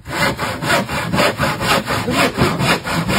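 A hand saw rasps through wood in steady back-and-forth strokes, close and loud, roughly three or four strokes per second with no talking.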